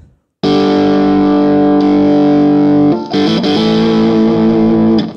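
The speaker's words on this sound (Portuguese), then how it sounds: "um nível de distorção bem maior, o que torna o som mais sujo" Electric guitar through a Maica Custom drive pedal set to hard clipping, giving a dense, saturated distorted tone; a loud sustained chord rings for about two and a half seconds, then a second strummed chord follows and sustains until the end.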